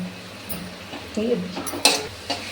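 Spices are stirred in a pan while chicken cooks for chicken rolls. A few soft scrapes and clinks of a utensil against the pan sound close by, with a brief louder scrape near the end, under a voice talking.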